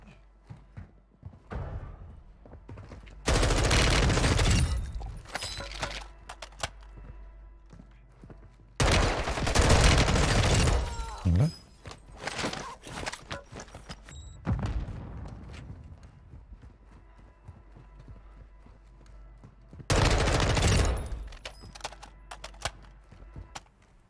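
Bursts of rapid gunfire in Call of Duty: Warzone 2.0 arrive in three loud clusters, separated by quieter stretches of scattered shots and game noise.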